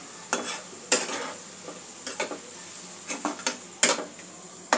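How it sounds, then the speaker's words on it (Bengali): Chhana chop, cottage cheese croquettes, being turned in a frying pan, with a soft background sizzle and a series of sharp, separate scraping and clinking strokes from a spatula against the pan. "সামান্য ভাজা হওয়া পর্যন্ত একটু অপেক্ষা করব।"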